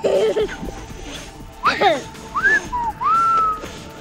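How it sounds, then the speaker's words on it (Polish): Several short whistled notes and rising glides from a person walking outdoors, with brief bits of nearby chatter and rustling between them. "Myślę, że on gwizdał."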